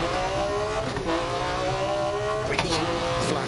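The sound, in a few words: Metro rally car engine revving, rally video game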